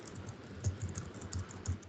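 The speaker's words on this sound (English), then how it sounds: "Loop is running and I'm typing." Typing on a computer keyboard during a coding session, a run of quick irregular key clicks with a few heavier strokes, close and alone without any voice.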